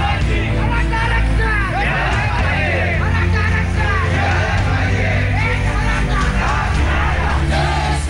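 A huge crowd at a Maratha rally in Mumbai, continuous loud shouting, yelling and chanting from many voices, dense and unbroken throughout.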